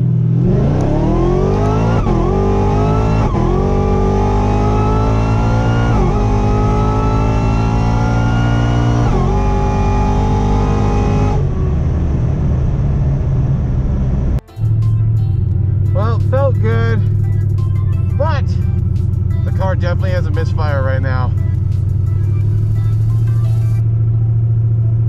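Street car with a 9-second capability launching down a drag strip on fresh fuel, its engine revving hard through several rising gear pulls, then easing off before a steady loud idle rumble with voices talking over it.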